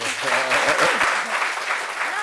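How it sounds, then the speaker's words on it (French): Audience applause at a French talk-show gathering, a brief burst of clapping from a small crowd, with voices talking and laughing over it. "Ça s'applaudit, non?"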